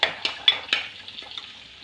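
Ginger, garlic, green chili and shallots sauté in a pan for tuna curry, with several sharp spoon stirs and scrapes over a steady soft sizzle, close and fairly quiet, no voices.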